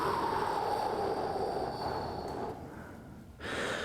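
A quiet, close breath taken while holding yoga turtle pose: a soft airy inhale and exhale with a slight snort-like catch, alone in a calm room.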